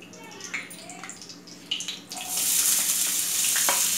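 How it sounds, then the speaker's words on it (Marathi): Finely chopped onion hitting about 1.5 tablespoons of hot oil while cooking paneer bhurji, bursting into a loud, steady sizzle that fills the second half after some lighter clatter and movement. "आता आपण बारीक चिरून घेतलेला कांदा टाकलेला आहे शिजण्यासाठी।"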